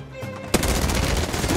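An R9 rifle in the video game Warzone opens up with a sudden sustained burst of rapid automatic gunfire right after a brief quiet moment.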